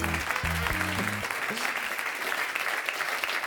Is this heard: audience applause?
yes